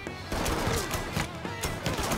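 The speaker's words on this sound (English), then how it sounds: "Got gunfire down here somewhere" Gunfire in the Mafia III video game: dense, sustained bursts of rapid shots over a thick, noisy battle din, fairly loud and continuous, with no clear talking.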